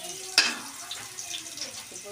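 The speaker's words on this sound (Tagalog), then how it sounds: "Lagay natin yung bawang." Garlic dropped into hot oil in a pan for sautéing shrimp, a sudden sizzle burst that settles into a softer crackle, close by, with a voice speaking.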